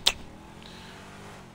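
The Brawler off-road car in the video game GTA V idles with a low, steady, faint engine hum after a brief click at the start.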